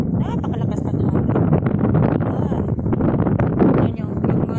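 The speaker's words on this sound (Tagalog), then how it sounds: "Yung hangin dito, dinig nyo. Napakalakas ng hangin." Strong wind gusts through bamboo and banana leaves on a hillside farm during corn planting, a loud, continuous rushing roar with buffeting against the microphone, while a voice talks over it.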